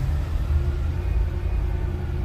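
A 1994 Cadillac Deville with a 4.9 engine, just started after a fuel pump replacement, idles with a steady low rumble. The sound is continuous and moderately loud, heard alone with no talking.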